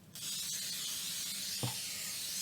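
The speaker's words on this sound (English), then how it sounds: "I'm spraying the pan so that the parchment will actually stick to the pan" Cooking spray hisses steadily from a can of Pam onto a baking pan, close and continuous for over two seconds, with a faint clunk partway through.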